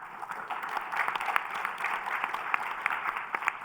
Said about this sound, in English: So if we can give Keith and everyone at USGIF a round of applause here.